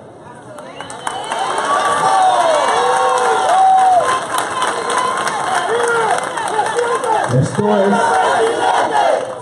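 Protest march in San Andrés, with a dense crowd chanting and shouting loudly and continuously, rising in waves while someone speaks close by over the din.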